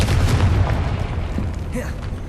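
A Confringo blasting spell exploding in the Hogwarts Legacy video game, a deep booming blast up front that rumbles and fades over a couple of seconds, with faint game sounds after.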